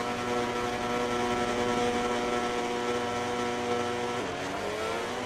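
A MotoGP 19 racing motorcycle at the Barcelona-Catalunya circuit, its engine holding a steady, loud, buzzing high-revving drone that shifts pitch near the end as it changes gear. No one talks.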